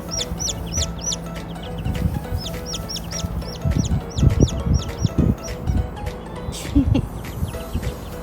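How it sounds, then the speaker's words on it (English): Baby chicks and chickens near a truck, repeated high peeping and clucking calls in quick bursts, close by, with a person talking and handling noises underneath. "Look, are you taking care of your chickens?"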